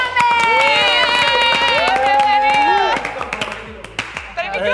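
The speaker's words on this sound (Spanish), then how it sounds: "vamos a darle un fuerte aplauso a un guapo muchacho y un guapo cantante" A TV studio audience claps and cheers to welcome a singer, with a loud sustained shout from a host riding over the applause before the clapping thins into scattered claps.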